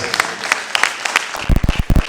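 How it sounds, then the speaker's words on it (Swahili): A church congregation claps for Jesus during a sermon: a quick burst of brisk, close applause, then a few heavier, lower thumps as the clapping trails off. "Pigie Yesu makofi mazuri kabisa."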